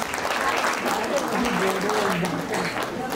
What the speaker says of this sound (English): let's applaud them onto the stage.